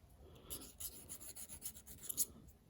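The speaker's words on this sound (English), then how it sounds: "This is a diamond encrusted file, and all I do is just grind the burrs off" A diamond-encrusted file rasps burrs off the gapped end of a piston ring for a stock Buick engine. It makes short, faint scraping strokes in a quick uneven rhythm, heard up close and alone.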